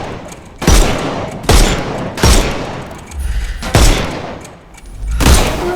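Video-game gunfire in Sherlock Holmes Chapter One: five loud, sharp shot bursts spaced roughly a second apart, each with a booming low thump and a short decaying tail, no talk over them.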